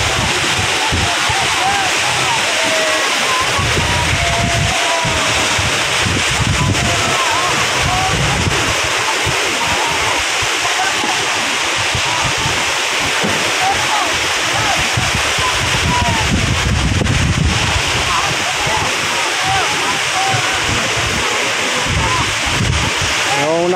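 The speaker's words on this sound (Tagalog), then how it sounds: "Mahirap po kasi magbabangay niyan dahil malakas ang agos, may alon." Rough water on Manila Bay during fishing, with waves and a strong current sloshing and splashing continuously beside a boat, mixed with wind buffeting the microphone.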